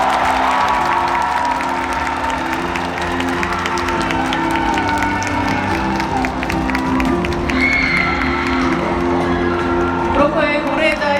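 A crowd at a Busan International Film Festival open talk for the film Broker applauds and cheers steadily as the director and actors enter. Dense clapping continues under a host's amplified voice, with whoops rising toward the end.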